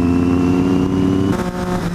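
Triumph Street Triple motorcycle engine running steadily at a rally ride near Cavalese, a loud close drone with a slight shift in tone partway through, no voices.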